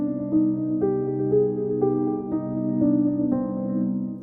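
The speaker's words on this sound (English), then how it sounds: "you're just going to play Hirajoshi over that harmonic minor function." Guitar playing a Hirajoshi scale line over a harmonic minor backing, with steady evenly spaced notes stepping along over a sustained chord, moderately loud and unaccompanied by voice.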